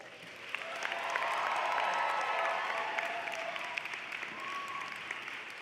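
A graduating class applauds during an SFU fall convocation ceremony. The clapping is steady and sustained across a large hall, swelling slightly and then easing, with no voices over it.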